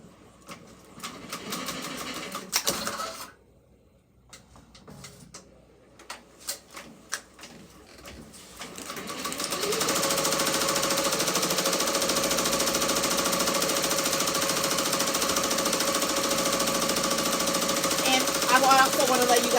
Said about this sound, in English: we're going to go ahead and stitch down our placement stitch on top of our fabric.